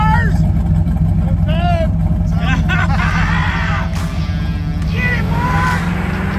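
A 6.0 turbo Chevy van engine revs hard on a dyno, a loud, steady roar that holds the whole way, with voices and a shouted call over it.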